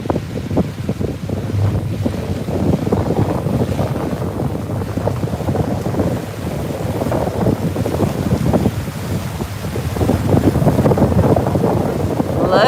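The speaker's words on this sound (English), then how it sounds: "Look at all those boats behind me." Boats on Fort Lauderdale's Intracoastal Waterway, heard as a steady low engine and water rumble with wind buffeting the microphone throughout, with no talk.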